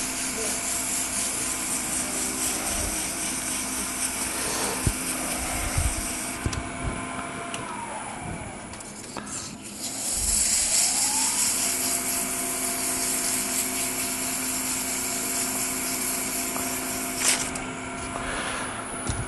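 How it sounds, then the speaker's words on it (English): A power sander whirs steadily against a wooden bowl with a gritty, rubbing hiss, its pitch dipping briefly as pressure shifts, fairly close and continuous. "power sanding also works really good for stubborn bowls"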